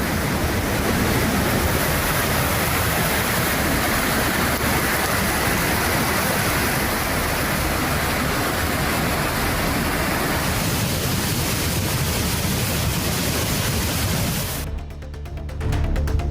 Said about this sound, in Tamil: திருப்பத்தூர் மாவட்டத்தில் கனமழையால் ஜலகம்பாறை அருவியில் வெள்ளப்பெருக்கு ஏற்பட்டுள்ளது.